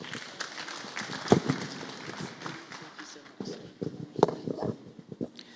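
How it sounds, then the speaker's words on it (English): Applause from the audience at a media lecture after the speaker finishes, fairly quiet with scattered claps rising and falling over a few seconds. "There's another round of applause for Mr."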